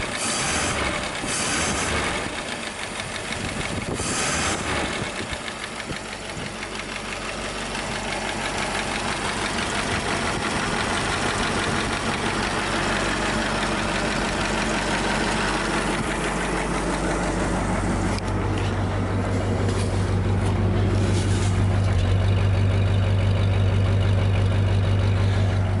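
A 1927 Elcar engine runs after carburetor work, chugging and knocking steadily at close range, then settling into a deeper, heavier idle near the end, with no talking.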